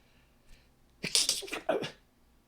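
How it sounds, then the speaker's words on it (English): A single loud, close sneeze with a short sharp intake before it, bursting out and fading within about a second, amid a casual group tabletop roleplaying session. "I'm going to sneeze."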